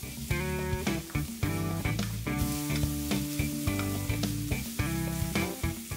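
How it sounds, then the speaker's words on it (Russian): Green onion and red chili pepper sizzle and fry in a hot pan, a steady crackling hiss with repeated clinks and scrapes from stirring, close and alone without any talking. "разогреваем сковороду и первым делом выкладываем жариться зеленый лук и красный стручковый перец."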